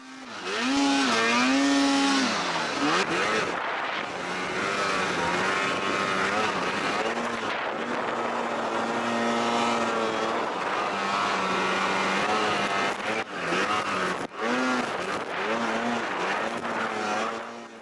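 An Arctic Cat Alpha One snowmobile engine screams on snow, revving loud and high with the pitch climbing and falling as the throttle is worked, near and sustained, with a few brief dips.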